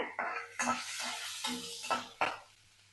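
Small shallots sizzling as they are sautéed in a pan, with several bursts of frying hiss as they are stirred, close and fairly quiet.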